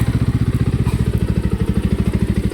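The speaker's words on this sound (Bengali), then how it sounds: "বাইকের একটা ইঞ্জিনের আওয়াজ না থাকলে" Motorbike engine running steadily close by, a loud, even pulsing throb with a regular rapid beat throughout, no voices over it.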